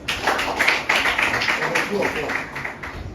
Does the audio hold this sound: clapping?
yes